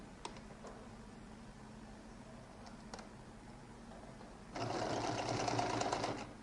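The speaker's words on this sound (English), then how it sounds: "So I place them together, and I'm going to sew the top alone" A sewing machine stitches two jacket collar pieces together, its motor starting partway in as a steady close whir that runs for about two seconds after a quiet lead-in.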